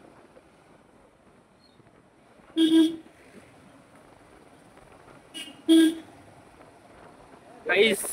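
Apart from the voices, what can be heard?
car horn honking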